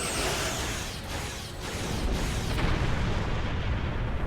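Torpedoes launch and explode in a dense rumbling barrage during a Star Trek Online space battle, a continuous loud roar with repeated booming impacts and no talk.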